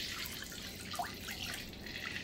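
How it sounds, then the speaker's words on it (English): Water pours and splashes into a wok for a couple of seconds, a fairly quiet, continuous trickling stream with no voices. "So what I'm going to do is just add 2 cups of water in here."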